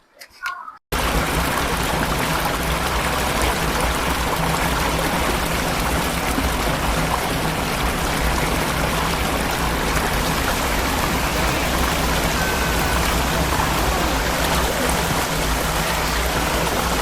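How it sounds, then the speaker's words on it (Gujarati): Nirganga waterfall near Neelkanth Mahadev in Uttarakhand gives a loud, steady rush of falling water that fills the whole clip without a break, after a brief quiet opening. "મારી પાછળ તમે જોઈ રહ્યા છો તે નિર્ગંગા વોટરફોલ છે"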